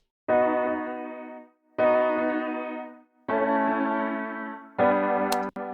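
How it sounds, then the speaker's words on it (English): Muted piano heard only through a fully wet delay: four sustained, echoing chord swells arrive at even intervals, each blooming and fading, loud and alone without any dry attack. "because our piano is muted, we're only hearing the echo"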